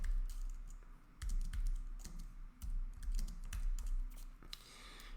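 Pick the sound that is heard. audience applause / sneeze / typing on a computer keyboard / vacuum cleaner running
typing on a computer keyboard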